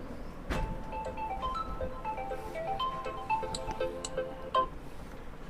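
A phone ringtone plays a repeating melodic tone pattern at moderate level for several seconds over faint background noise, with no voices.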